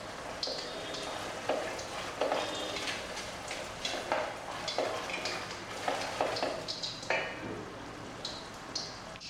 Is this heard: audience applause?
no